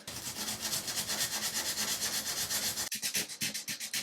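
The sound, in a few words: sanding bathtub repair with 400 grit sandpaper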